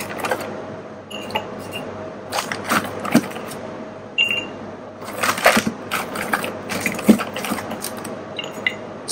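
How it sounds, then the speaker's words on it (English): A mezcal cocktail with grapefruit bitters is stirred with ice in a mixing glass, giving a steady run of clinking, rattling ice and bar spoon taps that rise and fall close up, with no talking. "Let's stir it."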